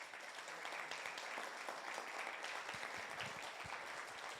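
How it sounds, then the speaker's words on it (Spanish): A church congregation claps together at a Spanish-language worship service, a dense, steady wash of applause that goes on the whole time with no talk over it. "Dele palmas al Señor, por favor."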